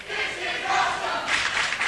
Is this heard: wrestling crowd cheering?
yes